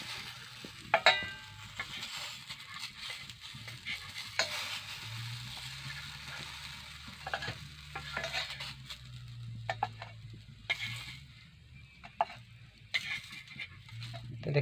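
Taro leaf fritters (kochu patar bora) fry in hot oil with a steady low sizzle and bubbling, broken by occasional stirring clinks and brief scrapes of a utensil, with no one speaking.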